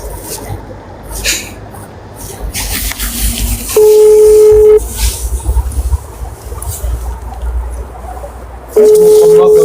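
Two long, steady telephone ringback tones sound over a noisy background with occasional rustles and clicks.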